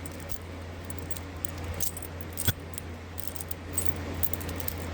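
A ring of fire alarm panel and pull station keys jangles close by in a steady, soft rattle while someone searches through it for the right key. No one speaks.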